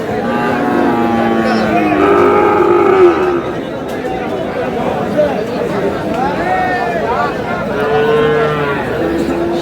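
A Sahiwal bull moos loudly several times, long drawn-out calls over a busy outdoor cattle market crowd with people chattering in the background.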